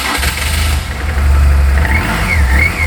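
A BMW R 1200 GS Adventure motorcycle with 55,000 miles and full luggage starts up close and loud, its engine rumbling and revving steadily as the pitch rises and falls, with no voices.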